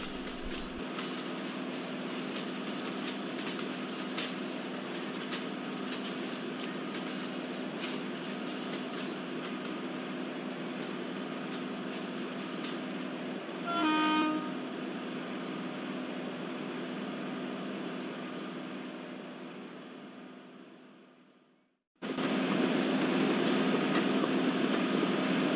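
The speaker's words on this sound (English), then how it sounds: "In a gradient it is very difficult for us to pick up speed while climbing a gradient." The Kanyakumari Express labours up a gradient on the Guntakal–Pakala line with a steady, rumbling wheel-and-engine drone. A brief clank rings out midway, then the sound drops out abruptly before returning loud and close.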